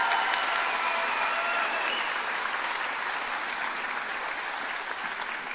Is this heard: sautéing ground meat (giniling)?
no